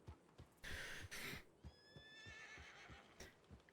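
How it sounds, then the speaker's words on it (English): A horse in a Western roleplay video game whinnies loudly in a rising, quavering neigh, with soft hoof clops and rustling around it, no talk over it. "Oh, look at that junky horse."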